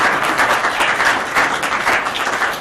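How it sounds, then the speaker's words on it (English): Audience applause during a group presentation for a birthday, a full room clapping steadily and fairly loudly with slight swells in intensity. "can we all please give a round of applause to Dave."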